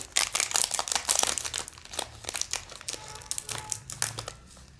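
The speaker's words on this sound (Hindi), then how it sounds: "इसको भी हम इसके पैकेट को भी हम कट कर लेते हैं।" Close crinkling and rustling of a tea packet being cut open, irregular plastic crackles for several seconds without talking.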